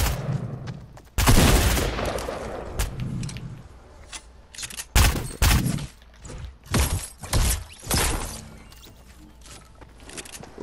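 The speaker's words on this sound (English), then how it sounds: "Oh, he's shooting at me." Gunfire in the video game Fortnite, loud bursts of shots and cracking impacts scattered through the stretch, clustered around a few sharp peaks with quieter gaps of game ambience between them.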